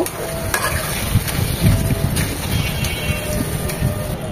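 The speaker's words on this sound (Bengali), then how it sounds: "মশলার সাথে বিফ কিমাটা খুব ভালোভাবে নেড়েচেড়ে মিশিয়ে নেব।" Beef mince with spices stirred and fried in a pan, giving a steady sizzle and scraping that runs without a break over a low rumbling background, with no speech.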